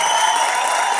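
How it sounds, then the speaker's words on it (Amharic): Audience applause fills a graduation ceremony at Adonai Academy, a steady wash of many hands clapping at close range, loud and continuous throughout the brief moment with no break. "ስለዚህ አንዴ ሁላችሁ ጭብጨባ ለናቲ ወንድም"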